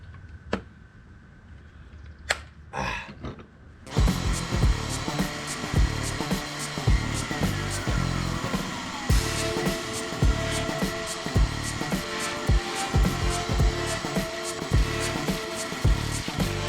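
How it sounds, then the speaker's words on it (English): Battery-powered vacuum cleaner removing dog hair from a Subaru car interior: brief handling clicks, then a loud steady motor whine with rattling debris pickup and changing pitch as the nozzle moves. "a quick vacuum will get up all the little rocks, pebbles, dirt, whatever"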